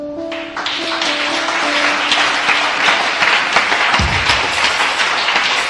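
Congregation in a church applauding loudly to acclaim God, a steady dense wash of clapping with cheering voices sustained throughout, a few brief tones at the start.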